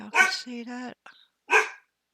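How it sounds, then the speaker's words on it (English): A small pet dog barks close by, two or three sharp barks with a pause between them, while someone talks over the first bark. "I'm sorry about my dog."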